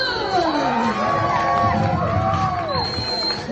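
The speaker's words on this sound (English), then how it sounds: "Yeah, applause for you." Children's cheering and whooping rise from a crowd during a Thriller dance class, a steady run of excited shouts and yells with rising and falling pitches, moderately loud and close.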